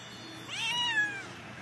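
A cat gives a single clear, rising-then-falling meow close by, heard alone against quiet background.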